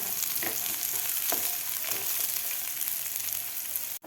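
A medium onion frying in a pan for a village-style amaranth greens dish, a continuous close sizzle with a few stirring scrapes, no voices.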